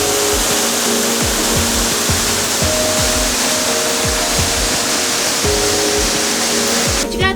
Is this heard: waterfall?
yes